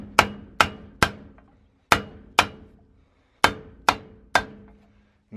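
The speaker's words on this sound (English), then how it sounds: "In this case, it's going to be a rubber mallet." A rubber mallet strikes sharply, about nine blows in irregular pairs and runs, each hit close and loud with a short decay as it knocks an old shovel handle free.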